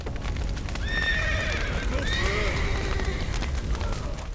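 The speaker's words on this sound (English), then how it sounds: "Another few horses." Horses in The Witcher 3 whinny and neigh loudly over a steady clatter of hooves, several high calls rising and falling across a noisy, busy background.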